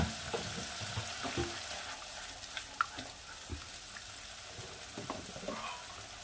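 Ground spice paste goes into hot tempered oil for a Bengali bata fish curry and fries with a steady, close crackling sizzle. Occasional stirring clinks sound over it and no one speaks.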